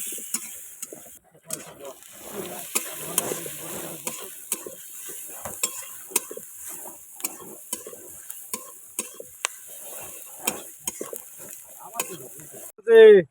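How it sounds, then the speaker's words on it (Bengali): Crab being fried with onion and garlic during a night fishing trip in the Sundarbans: a rough, crackling sizzle with clattering stir strokes and clicking, fairly close, a few voices murmuring, ending in a sudden loud burst. "পেঁয়াজ রসুন দিয়ে এখন ওটাকে একটু ভেজে নিচ্ছে"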